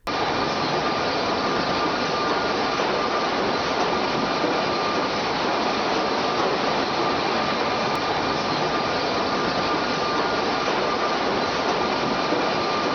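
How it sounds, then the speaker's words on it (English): A high-speed lumber planer line in a barrel factory mill runs continuously, its knives spinning at thousands of revolutions per minute to strip rough oak lumber, making a loud, dense, unbroken industrial roar throughout. "Planer knives spinning at thousands of revolutions per minute quickly remove the rough outer surface"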